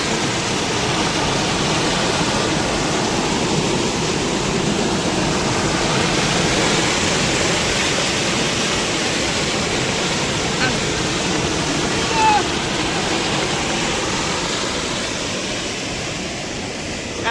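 Rainwater flowing through a village street, a dense, even rushing wash of moving water that holds steady and fairly close throughout, with no clear voices over it.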